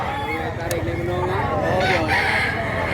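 A rooster crows at a gamefarm in Mantalungon, Cebu, its drawn-out call rising over a loud, busy background of other fowl and outdoor noise.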